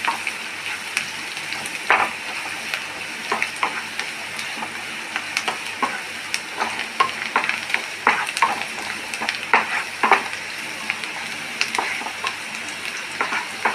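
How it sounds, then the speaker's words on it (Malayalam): Onions frying with turmeric powder in a pan for a Kerala-style vegetable stir-fry, a steady close sizzle with irregular crackles and scraping stirs throughout, no voices. "കുറച്ച് മഞ്ഞൾപ്പൊടി, സവാള ഒന്ന് ഫ്രൈ ആവണം."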